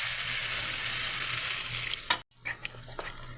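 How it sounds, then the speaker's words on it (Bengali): Water is poured into spiced masala frying in a pan for a fish curry with ridge gourd and potato, a steady sizzle breaking into a sharp hiss, then a brief near-silence and sputtering bursts as the liquid hits the hot pan. "এবার আমি জল দিয়ে দেবো,"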